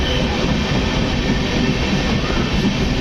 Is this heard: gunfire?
no